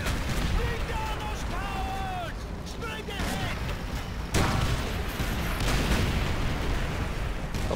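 Artillery fire in Call of Duty: World at War co-op, rumbling booms and bursts rolling continuously through the scene, with people talking over the din.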